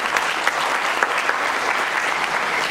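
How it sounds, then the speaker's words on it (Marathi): Loud, dense applause from an audience for children after a children's play at an acting academy, steady clapping filling the whole stretch with no pauses. "सगळ्या मुलांकरता एकदा जोरदार टाळ्या"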